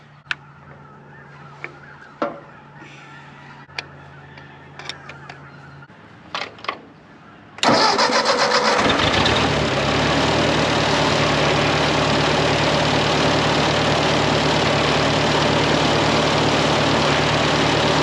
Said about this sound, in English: it started and idled like this before